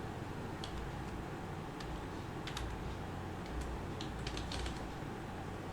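Typing on a computer keyboard during a coding session, with scattered clicking keystrokes in short irregular bursts over a steady low hum, fairly faint.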